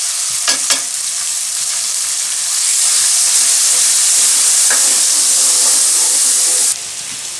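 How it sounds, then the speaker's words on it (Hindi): Tomatoes and green chillies frying in a pan for karela gosht with meat and bitter gourd, a loud continuous sizzle and hiss, stirred with a few scraping knocks, the hiss easing near the end. "अब हम इसमें टमाटर शामिल कर देंगे और हरी मिर्ची शामिल कर देंगे।"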